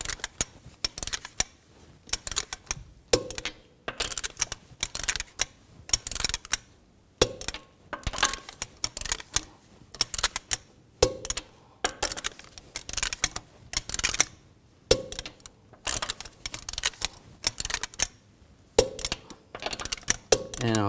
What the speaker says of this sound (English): Now I'm going to torque the lug nuts to 83 foot-pounds in a star pattern to tighten the wheel down evenly.